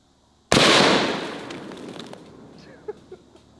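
A single loud, sharp report from a .308 battle rifle firing a 155 grain Hornady Critical Defense round. The blast is near and abrupt, with a long decaying tail and a couple of small pops afterward.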